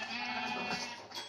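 Sheep bleating in the video game Minecraft (Xbox 360 edition), a steady close bleat running throughout with no talking over it.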